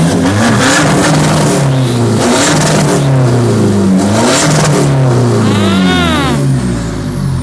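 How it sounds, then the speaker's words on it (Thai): A Nissan Big M 1.9 diesel pickup engine revs repeatedly nearby, loud and continuous, with rising and falling pitch sweeps and a brief whine near the end. "ฟังเสียงกันนิดนึงนะคะสำหรับนิสสันบิ๊กเอ็มคันนี้นะคะ"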